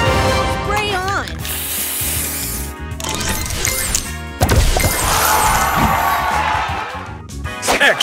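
Busy, layered game effects from Match Masters play throughout, including the spray booster's hissing burst, crashes, clacks and coin-like chimes over looping music, with a sharp smash partway through.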